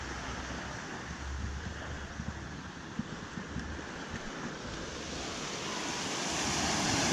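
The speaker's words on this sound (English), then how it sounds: "This is Ka'anapali Beach." Ocean waves wash ashore at Ka'anapali Beach on Maui as a continuous broad roar, mixed with wind buffeting the microphone and building louder toward the end, with no talking.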